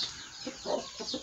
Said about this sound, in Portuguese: E aqui, ó, ficam os galos combatentes.